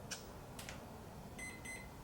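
Two short electronic beeps from the ESC of an FMS 70mm EDF F-16C Fighting Falcon RC jet as it arms, faint tones over a steady hum of background noise.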